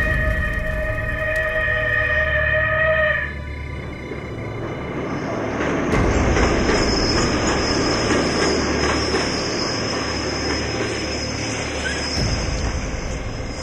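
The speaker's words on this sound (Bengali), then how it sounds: "ঠিক ওইখানেই এসে দাঁড়ায় শিবালিক এক্সপ্রেস।" Shivalik Express pulling in: a steady mechanical hum cuts out and gives way to a broad, rushing rumble with a high metallic whine, building and holding at moderate loudness throughout.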